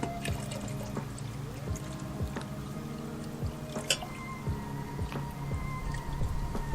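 Aquarium fish are poured with their water into a small DIY patio deck pond, giving soft splashing and dripping of water close by, with scattered drips over a quiet background.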